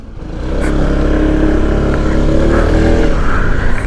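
A Gemma 125 motor scooter engine hums steadily while making a U-turn on a test ride, a close, continuous low drone that holds even and rises slightly toward the end.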